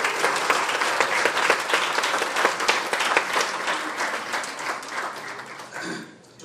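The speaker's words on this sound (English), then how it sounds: "So I think you guys can do a better job with the applause." A large crowd at a biography book launch applauds loudly and steadily, a dense wash of many hands clapping at once that fades out near the end, with no voices over it.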